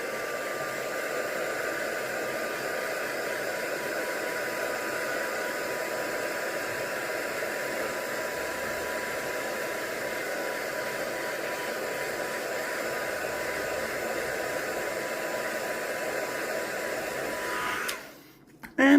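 A hair dryer blows steadily over a mixed media art page, a constant close whooshing hum that runs unbroken for most of the stretch before cutting off near the end.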